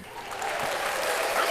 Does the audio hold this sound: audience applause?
yes